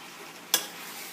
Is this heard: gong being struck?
no